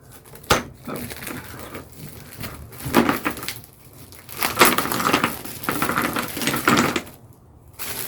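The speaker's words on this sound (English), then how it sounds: "I really love the sound when you tumble those blocks over" Wooden tumbling tower blocks, Halloween-themed, topple and clatter in several loud, irregular bursts of knocking and sliding, with quieter pauses between spills and no talking.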